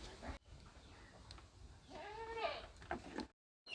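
A goat on a milking stand at a dairy goat farm gives a couple of wavering, nasal bleats, close and fairly clear against light background noise.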